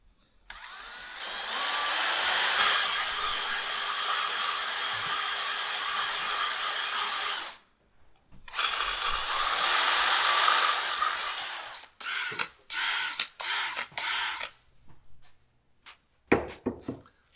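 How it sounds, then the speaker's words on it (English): A power drill whines loudly for several seconds drilling through aluminum for rear clearance lights, pauses, then runs again, followed by a series of short, sharp bursts of drilling. "so I'm going to drill this one myself"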